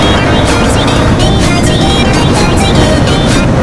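A KTM Duke 125 motorcycle rides along an empty road, giving a loud, constant rush of engine and wind noise close to the rider's microphone for the whole stretch.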